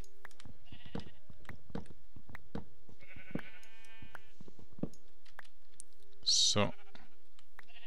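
Minecraft sheep let out a short bleat amid the game's sounds, with soft clicking from keyboard and mouse and someone talking intermittently.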